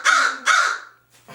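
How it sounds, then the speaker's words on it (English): An American crow gives two loud, harsh caws in quick succession, close and clear, followed by a softer third call starting after a short pause. "So, Corbin is an American crow."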